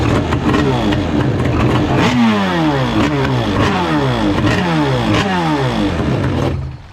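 A loud two-stroke freestyle jet ski engine being broken in runs close by out of the water, revving up and down with a buzzing, rising-and-falling pitch before cutting off at the end.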